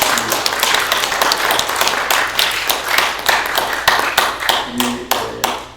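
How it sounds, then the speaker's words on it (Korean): A congregation claps at a Korean Sunday church service, loud, close, rhythmic hand claps in a steady pattern throughout, with faint voices underneath. "박수랑 우리 한번 보내주시겠습니다."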